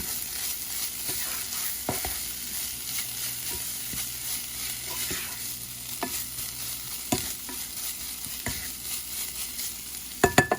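A spatula stirs vegan taco filling sprinkled with McCormick taco seasoning in a frying pan, giving soft scrapes and a few sharp clicks over a quiet, steady sizzle, louder knocks near the end.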